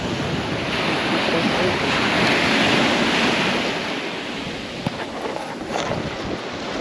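Steady, continuous surf washes up on the beach at Inskip Point, a broad rushing roar with gusts of wind buffeting the microphone and no voices.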